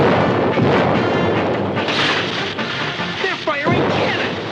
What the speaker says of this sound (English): They're firing cannon!